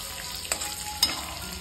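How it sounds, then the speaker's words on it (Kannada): Chopped garlic sizzles in hot oil in a pan, a steady close frying hiss with a couple of soft clinks from stirring and no voices. "ಈಗ ಇದರಲ್ಲಿ ನಾನು ಕಟ್ ಮಾಡ್ಕೊಂಡಿರೋ ಬೆಳ್ಳುಳ್ಳಿ ಹಾಕ್ಕೊತಾ ಇದ್ದೀನಿ"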